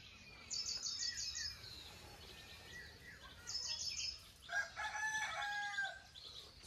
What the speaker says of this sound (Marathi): इकडं पण आपल्या कोंबड्या आहेत बघू शकता. आणि हे आपल्या कोंबड्यांची घरं.